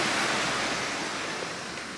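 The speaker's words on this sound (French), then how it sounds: "J'aime trop les bruits de l'eau qui coule et tout." Flowing water runs as a steady, broadband rush, fairly loud and close, forming the scenery while someone waits outdoors; no voices, just an even, continuous wash.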